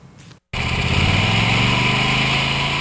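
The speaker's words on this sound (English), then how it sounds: "mowing her massive lot out in the acreage" A lawn mower cutting a large lot out on rural acreage: a brief quieter stretch, then a loud, steady engine drone that holds evenly to the end.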